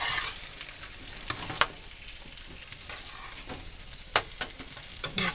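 A sweet potato scramble fries in a pan with a continuous crackling sizzle and occasional sharp pops and clicks of stirring, moderately close, with no talking.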